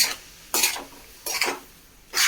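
Kerala-style mango pickle stirred in a pan, three or four distinct scraping sweeps of a spoon against metal, close and fairly loud with short pauses between them, no talking.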